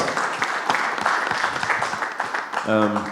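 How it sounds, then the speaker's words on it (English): A university lecture audience applauds a presentation with a steady patter of clapping, briefly overlapped by a voice speaking near the end. "If we can give Maura a round of applause"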